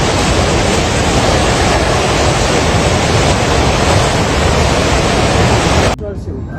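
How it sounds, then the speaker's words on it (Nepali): The flooded Trishuli river in Nepal rushes past as a loud, unbroken roar of churning water that cuts off abruptly near the end, with voices partly buried under it. "खोला है त्रिशुली खोला भयङ्कर"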